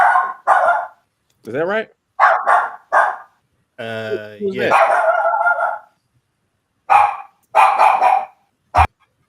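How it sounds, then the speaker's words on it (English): A dog barks repeatedly in short bursts, fairly close and loud, with a couple of yips and a growling whine mixed in, while people talk and react around it in a casual room setting. "Whose dog is that?"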